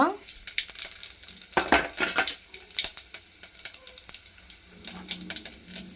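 Tempering spices, including carom seeds, sizzle in hot oil in a pan for a wheat rava breakfast dish, a steady crackling sizzle with sharp bursts and pops building midway, close and fairly loud, with no talking.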